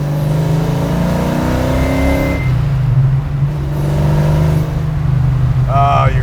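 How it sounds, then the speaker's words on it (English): A Pontiac GTO muscle car engine rumbles steadily at idle and low revs, with a brief higher whine near the start and a voice cutting in at the end. "Oh, your car sounds so good. Oh, I like the pops you get."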